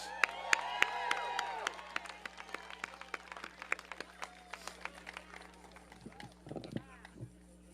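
A rally crowd applauds outdoors before a student-led gun-control march in DC, with scattered, fairly distant clapping that thins out toward the end as a voice begins over it.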